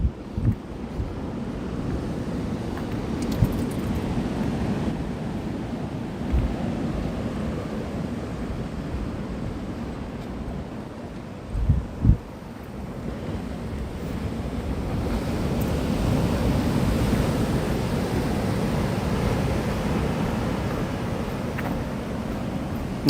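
Ocean waves wash onto a beach at night in a steady, rolling roar, with gusts of wind buffeting the microphone and a few brief thumps; no one speaks.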